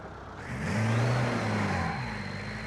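A van's engine revs up and strains under load, a steady droning roar that swells, holds, and eases slightly without picking up pace.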